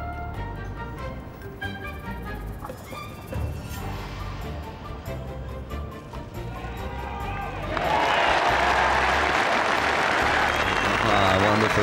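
A large golf crowd at St Andrews bursts into a roaring wave of applause and cheering for Tiger Woods' winning putt at The Open Championship, louder and denser in the final seconds, with a commentator talking over it.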